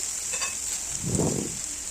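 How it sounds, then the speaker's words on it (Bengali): Chopped onions fry in oil in a pan with a steady, even sizzle. A single soft stirring rustle swells briefly midway. "পেঁয়াজগুলোকে খুব ভালোভাবে তেলের সাথে ভুনে নিচ্ছি"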